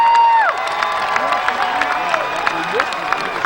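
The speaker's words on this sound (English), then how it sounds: "That brings some cheers from the Placer crowd here" Placer Hillman home crowd at a 2009 high school football game against Lincoln cheers and whoops after a sack, a lively mix of shouts and claps with a whistle-like tone near the start.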